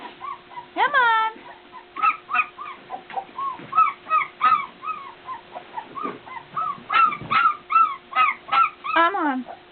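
A puppy whimpers and yips in a quick series of high, rising cries close by, repeating steadily throughout, with a steady background hum.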